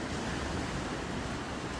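Steady, broad rushing of sea surf on a beach at night, with wind buffeting the microphone, continuous and fairly loud, no voices.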